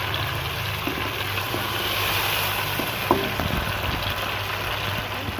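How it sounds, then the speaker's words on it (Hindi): Tomatoes and green chillies frying in a pan for a chicken and bottle gourd curry, giving a steady, close sizzle with a faint scrape of stirring partway through, and no talking. "इसको भी हमें 1 से 2 मिनट तक ऐसे ही इसकी भुनाई करनी है, टमाटरों और ये सब्ज़ मिर्चों की।"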